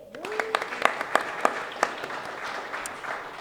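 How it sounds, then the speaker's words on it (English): Sparse clapping from a modest audience at a panel event, a handful of distinct claps in a loose rhythm that fades out, quiet overall, with a voice briefly heard at the start. "Give her another round of applause."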